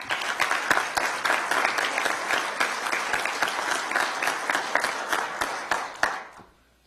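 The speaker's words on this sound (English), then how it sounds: "Let's give him a round of applause." Audience applause at a police command college graduation ceremony, steady dense clapping throughout that tapers off quickly at the end.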